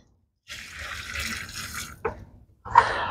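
Water poured from a container into a planting hole dug around a transplanted mango tree: a steady splashing pour for about a second and a half, a short splash, then another pour starting, close and unaccompanied by talk.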